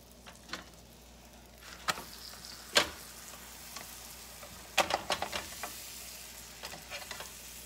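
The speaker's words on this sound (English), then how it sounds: "I'm just cooking a quesadilla." A chicken and cheese quesadilla frying in a cast iron pan, a quiet continuous sizzle punctuated by sharp crackles and pops at irregular intervals, close up and with no talking.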